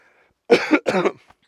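Two harsh coughs close together, near and fairly loud, with a brief faint throat sound after.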